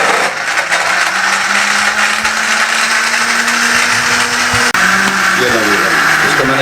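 An electric blender whirs loud and steady as it blends a fresh strawberry milkshake with ice, its motor pitch shifting slightly, with a brief clunk near the end and a voice speaking over it.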